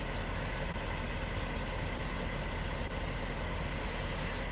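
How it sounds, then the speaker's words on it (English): A truck engine idles steadily with a low, constant rumble heard through an open vehicle window, moderately loud and unbroken, with no talking. "Is the truck louder than me?"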